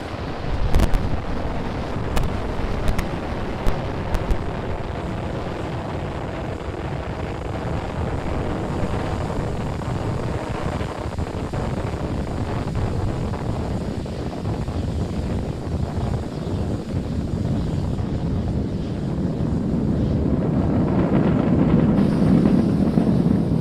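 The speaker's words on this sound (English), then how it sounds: "Falcon 9 has successfully lifted off from our pad 39A at the Kennedy Space Center" SpaceX Falcon 9 rocket lifting off from pad 39A at Kennedy Space Center on a Starlink launch, a steady, broad, wind-like rumble that swells slowly toward the end, with no one talking.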